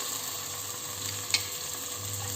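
Chopped onion, slit green chilli and ginger garlic paste sauté over a medium flame, making a steady, close, gentle sizzle with one brief clink partway through.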